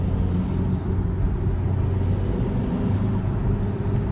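A Saab 9-3 TID diesel car accelerates hard, heard from inside as a steady, loud low engine drone and road rumble with no talking.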